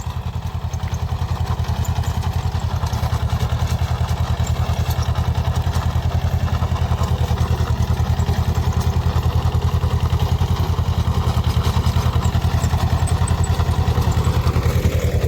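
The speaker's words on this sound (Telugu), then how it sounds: "చిన్న ట్రాక్టర్తో మధ్యలో రోటోవేటర్ వేయించేస్తున్నాం అనమాట" A small tractor runs a rotavator through a Yelakki banana farm, its engine holding a loud, steady, close drone with a fine rapid pulse for the whole stretch and no talk.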